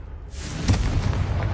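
A Confringo blasting spell in Hogwarts Legacy goes off with a sudden broad whoosh and a boom that rolls on as a rumbling, crackling burst and stays loud through the short moment.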